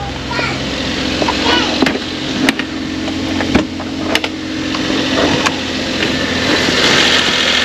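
A P6A 660cc engine, 63 horsepower with a 4-speed automatic, idles steadily with a low, even rumble after starting, broken by a few sharp clicks and knocks, with faint voices in the background.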